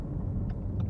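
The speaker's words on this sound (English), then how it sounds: "this car gets a lot of attention, partially because of the exhaust sound" A Ford Mustang Shelby GT350 exhaust gives a low, steady rumble from inside the moving car, continuous and fairly loud with no talking.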